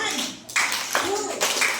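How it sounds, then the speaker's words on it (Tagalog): Schoolchildren in a Christmas-themed class clap in a few loud, spaced bursts rather than a clean count of five, with a voice and classroom chatter between the claps. "Limang palakpak."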